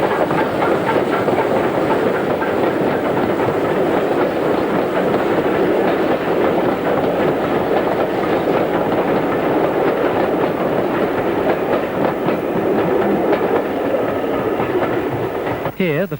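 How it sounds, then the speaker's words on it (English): Former LNER K1 steam locomotive No. 2005 climbs north of Levisham with a train bound for Goathland, giving a steady, dense chuffing roar mixed with rolling wheel noise that stays loud throughout. "Here, the former LNER K1, number 2005, climbs to the north of Levisham, with a train bound for Goathland."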